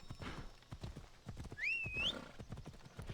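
Hoofbeats of a horse in the Assassin's Creed video game clip-clop at a steady trot throughout, with a short high whinny rising and falling partway through.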